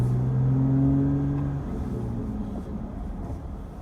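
A car fitted with a Borla Climber S-Type exhaust revs, a steady low engine note rising briefly then settling into a rumbling idle, close and fairly loud with no talk.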